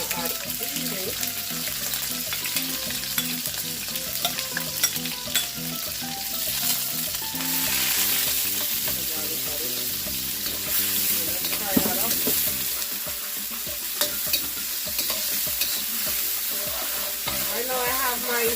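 Vegetables stir-fry in a hot pan over high heat for a Caribbean-style dish, with a loud, continuous sizzle and repeated clatter of stirring, plus a brief surge of crackling partway through.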